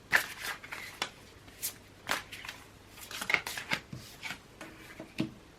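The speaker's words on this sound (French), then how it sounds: "je vais tirer 3 cartes conseils pour voir si ça s'aligne avec ce que je viens de dire" Oracle cards shuffled and drawn by hand at a reading table, a run of soft papery riffles and slaps in uneven bursts, close and quiet, with no talk.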